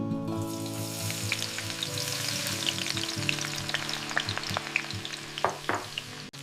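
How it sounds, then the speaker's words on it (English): Shallots frying in a small amount of oil give a steady, close sizzle, with occasional sharp clinks and scrapes of stirring near the end and no voices. "Frying the rest of the shallots."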